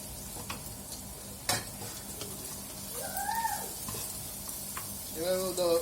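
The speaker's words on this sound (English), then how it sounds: "In goes ginger garlic. Just cook the ginger garlic a bit." Ginger and garlic cook in about a teaspoon of oil, making a faint, soft sizzle with a few light utensil taps and scrapes, while a couple of brief tonal chirps sound near the end.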